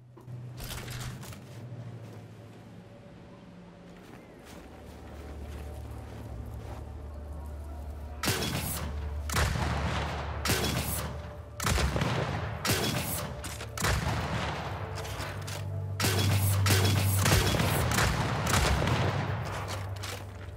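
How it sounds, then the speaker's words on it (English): Relic weapon fire in the Gears 5 video game: loud, close blasts arrive in clustered bursts of shots over a rumbling battle ambience, with no talking. "so you can basically just fire it 3 times without having to reload"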